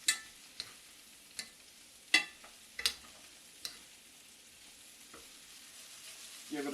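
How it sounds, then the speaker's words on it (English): Chorizo hash is stirred in a hot pan, with a soft continuous sizzle broken by several sharp scraping knocks of the utensil, irregularly spaced, quiet and close. "give it a good mix once again"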